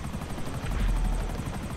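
The Buzzard attack helicopter in a video game, a loud close rotor chop throbbing in steady rapid pulses with a whining engine hum underneath.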